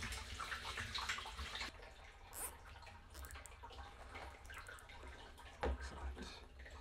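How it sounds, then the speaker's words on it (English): Water pouring into a plastic pig waterer tank, a soft, fairly faint rush with splashes and occasional louder gurgles. "Let's put some water in it and see how it looks."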